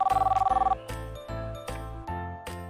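A mobile phone rings with a rapid trilling burst followed by a repeating melodic ringtone pattern, close and clear, with no talking over it.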